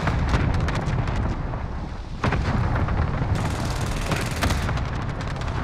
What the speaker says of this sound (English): Send the airstrike here. Got your request. Cluster strike is active.